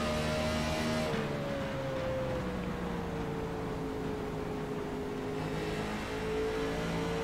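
An in-car race car lapping the one-mile Phoenix speedway, a continuous droning engine whine that slowly falls and rises in pitch, steady and loud with no other sounds.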